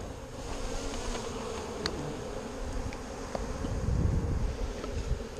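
A small honeybee swarm being captured with the frame method in Texas produces a steady, dense buzz that fills the whole clip, rising slightly toward the end. Light wind noise sits beneath it.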